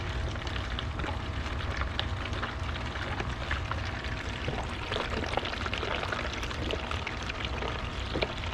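About a liter of yeast starter slurry pours into a fermenter in a close, continuous splashing stream that stays strong for several seconds, like liquid running from a flask during home brewing of an Oktoberfest beer.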